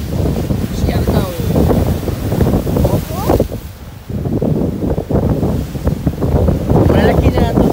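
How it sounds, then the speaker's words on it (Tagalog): Ocean waves wash against a shore, a steady broadband roar mixed with heavy wind buffeting on the microphone, while people talk over it throughout. "Pakita ko sa iyo yung alon guys."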